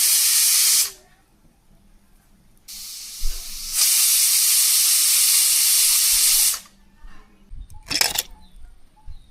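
A pressure cooker of goat mutton over a wood-fired village stove releases loud bursts of steam hiss, one long blast cut by silences, followed by a short sharp whistle spurt and softer clatter.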